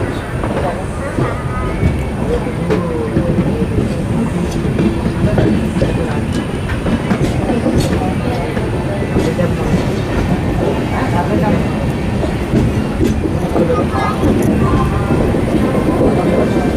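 The Amrit Bharat Express runs between Raipur and Nagpur with a loud, continuous rumble and rattle heard from inside the train, while faint voices murmur under the noise.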